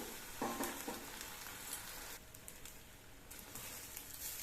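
Cooked rice for citron rice is stirred in a pan on the stove, giving a faint, steady sizzle with a few soft scraping touches, quiet and close.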